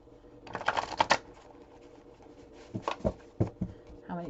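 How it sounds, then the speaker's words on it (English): A deck of cards is shuffled nearby in a few quick riffling bursts separated by quiet pauses, with soft handling clicks in between. "I'm going to shuffle and break the deck again."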